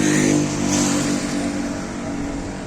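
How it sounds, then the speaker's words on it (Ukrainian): Car engine revving close by as the car backs up toward the listener outdoors in Cape Verde, a steady, fairly loud mid-pitched drone that eases slightly, with no talking. "Ой, ця машина їде на мене. Здавала назад."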